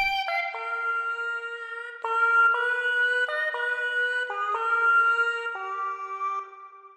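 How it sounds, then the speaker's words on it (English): A vocal sample loaded into Ableton Simpler and played as a melodic instrument, sustained pitched notes stepping through a tune, fairly loud and alone with no talking. "just a vocal sample into Ableton Simpler, which we can turn into an instrument."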